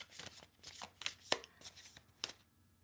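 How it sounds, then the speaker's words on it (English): Tarot cards being shuffled by hand, a quick run of soft riffling and slapping strokes in an uneven rhythm, close and fairly quiet, with no talking. "3 shuffles"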